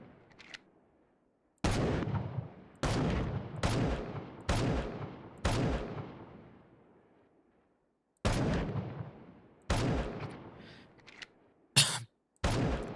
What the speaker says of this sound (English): So they just stand here and get shot in the head.